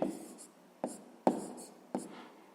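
A fraction being written by hand in a sixth-grade math lesson: four crisp pen strokes, each a quick scratch with a short scraping tail, evenly paced and heard up close in a quiet room.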